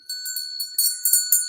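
A small hand bell rung during a tarot reading livestream, giving several quick bright ringing strikes in a row with sustained metallic tones, close and clear, with no talking.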